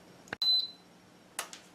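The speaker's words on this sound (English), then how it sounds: "it just beeped" A handheld pancake batter mixer-dispenser machine gives one short, clear electronic beep, set between a couple of faint clicks and handling noises in a quiet kitchen.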